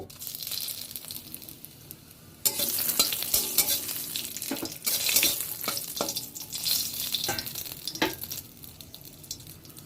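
Dried red chili and two bay leaves dropped into hot oil in a kadai, bursting into a loud, crackling sizzle after a quieter start, with stirring scrapes and pops continuing close by.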